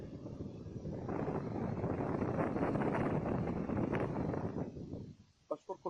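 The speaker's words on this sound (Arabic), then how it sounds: "السرعه 3 زي ما حضرتك شايفين كده المروحه بقت تمام وبيدي هواء منعش خالص." A repaired electric stand fan runs at its third, highest speed, giving a steady close airy whoosh with a low hum that fades out near the end, followed by a few faint clicks.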